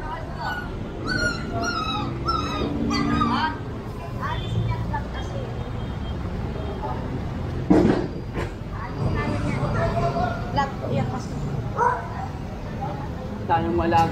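Stray dogs bark repeatedly at mid distance in a city street in Manila, sharp barks and yips recurring through the clip while people talk in the foreground over steady traffic rumble.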